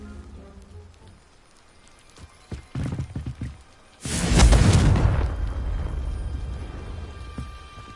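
A Confringo fire spell blasts a blockage in Hogwarts Legacy, a sudden loud booming explosion with a crackling rumble that tails off over several seconds, preceded by a few scattered knocks.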